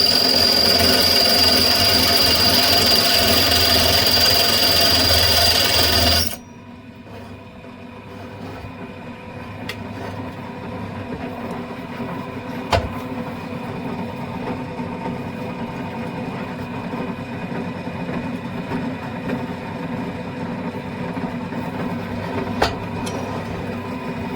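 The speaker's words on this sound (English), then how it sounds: "So let's get this drill in." A lathe drills down a pilot hole in a steel hammer workpiece, starting with loud machine noise that abruptly drops after about six seconds to a quieter steady cutting hum with occasional sharp ticks.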